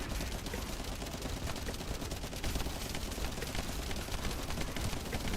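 Sniper fire in The First Descendant during a solo hard Executioner stealth outpost mission, a dense, continuous stretch of loud gunfire with no gaps and no voices.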